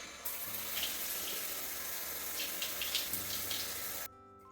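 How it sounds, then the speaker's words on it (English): Running water rinses body wash off skin in a steady faint stream that splashes softly and then stops abruptly. "let's give it a rinse."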